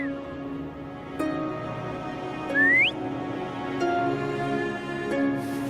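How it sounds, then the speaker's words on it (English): A short rising whistle blown to call a companion in the video game Wuthering Waves, a single clear upward-sliding tone over a quiet ambient backdrop with soft game chimes. "Try whistling."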